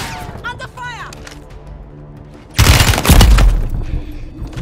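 Gunfire in a Call of Duty Warzone Resurgence battle royale match: a sudden loud burst of shots and booms erupts midway and continues densely to the end, with voice lines spoken before it.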